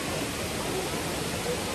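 Cambugahay Falls on Siquijor pours as a steady, dense broadband rush of falling water, close and continuous, with no speech.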